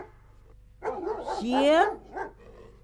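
Barking dog sounds, apparently a human voice imitating them in a Vietnamese stage comedy sketch, come as a short, loud, close burst with rising yelping tones, amid spoken dialogue.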